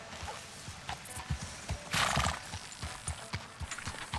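A horse's hooves clip-clop at a steady walking pace in the Western video game Red Dead Redemption 2, sounding close and fairly soft, with a brief whinny partway through.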